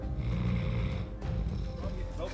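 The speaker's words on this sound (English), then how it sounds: "Snoring." A sedated black wolf lying on the ground snores in slow, rough, low breaths, a close and fairly quiet rasp that continues for a couple of seconds.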